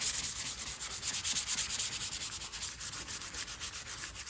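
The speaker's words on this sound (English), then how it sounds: "I've downgraded to some 80 to give a better bite into this paint." Steady back-and-forth scrubbing of 80-grit sandpaper on car paint, scuffing the surface in a continuous close rhythm with no talk.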